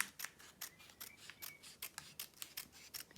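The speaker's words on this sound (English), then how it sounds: "So I'm going to gently lift this layer and cut around." Scissors snip repeatedly around a lifted layer of a diamond painting, a steady run of crisp close cuts with faint rubbing between them, no talk.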